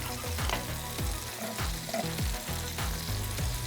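Butter sizzles and crackles steadily in several hot pans while breakfast eggs are cooked, with faint scraping and light clicks recurring through the continuous frying hiss.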